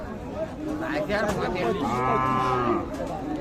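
A thin cow moos at a busy cattle market, a long, close, drawn-out call over the murmur of people talking nearby.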